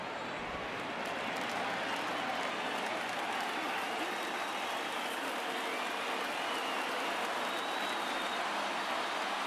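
Baseball stadium crowd of over 39,000 cheering in MLB The Show 19 during a Cubs vs Giants game, a dense, steady roar of applause and crowd noise lasting the whole stretch with no voices standing out.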